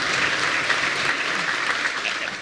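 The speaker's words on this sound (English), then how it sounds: "Clap them as well." Audience at a Scottish independence debate evening claps steadily, a dense, even burst of applause filling the hall for a couple of seconds.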